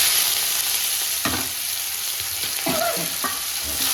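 Onions and ginger fry in a pan with garlic, a loud steady sizzle broken by several scraping stirs of a spatula against the metal.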